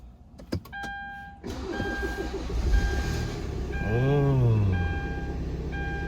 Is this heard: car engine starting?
yes